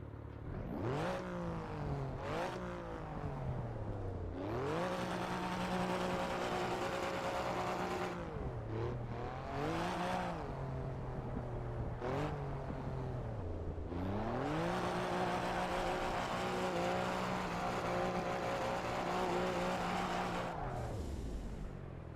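Race car engine heard from an outside view in the Assetto Corsa EVO racing game, loud and sustained, with the pitch sweeping up and down repeatedly through gear shifts as the car accelerates and brakes, with faint tyre noise.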